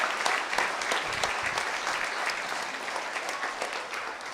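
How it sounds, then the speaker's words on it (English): Steady applause from a 4-H Showman of Showmen crowd, moderately distant, with scattered sharper claps before it slowly thins. "let's give her a big round of applause"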